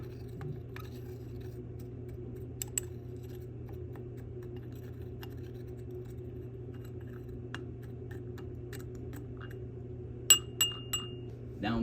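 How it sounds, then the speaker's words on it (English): A stirring rod clinks and scrapes against a glass beaker of magnesium sulfate, with a few sharp tings near the end, all over a steady low hum of lab equipment. "I'm going to remove the watch glass and give it a stir because I see water recondensing back into the beaker."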